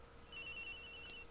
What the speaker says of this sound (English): Agent Hicks' phone, it's ringing from somewhere, sir.